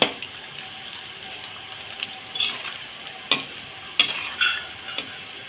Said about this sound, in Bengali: নারকোলটা আমি তেলের মধ্যে দিয়ে দিলাম নারকোলটা আমি ভেজে নেব